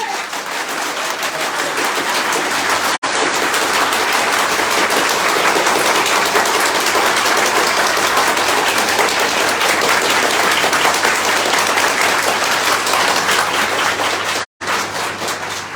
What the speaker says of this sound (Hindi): मेरे लेफ्ट साइड वाले वो थोड़ा सा दम दिखाएंगे ताली में